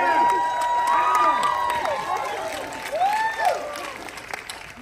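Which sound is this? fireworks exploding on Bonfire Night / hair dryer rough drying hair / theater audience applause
theater audience applause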